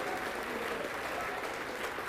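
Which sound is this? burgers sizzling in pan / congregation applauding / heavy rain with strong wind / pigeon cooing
congregation applauding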